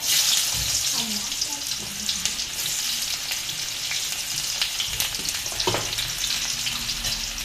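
Chopped onion sizzles and fries in hot oil in a kadai for an eggplant bhaji, a steady close crackle with occasional stirring clinks and scrapes.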